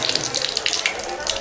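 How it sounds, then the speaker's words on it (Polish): Water gushes from a pedal-operated tap into a sink in a public toilet in Rome, a steady close splashing stream. "żeby odkręcić wodę, to musisz nacisnąć jakiś pedał"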